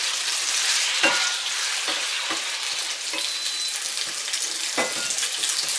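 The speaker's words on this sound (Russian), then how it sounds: "Куриное мясо обжариваю до полной готовности." Chicken pieces fry in about 100 ml of vegetable oil, giving a loud, constant hiss and sizzle with a few sharp stirring scrapes and clinks.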